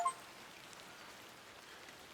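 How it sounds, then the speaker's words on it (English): Soft rain ambience in the adventure game The Excavation of Hob's Barrow, a faint, even hiss of falling drops that continues without pause. "I'm glad the rain doesn't put you off."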